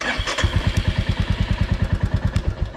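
A Royal Enfield Classic 350 fires up on its self-start button, catching after a brief crank and settling straight into a loud, close, steady thumping single-cylinder idle.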